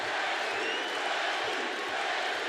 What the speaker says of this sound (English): Glendale crowd getting behind one of their own, Justin Gaethje,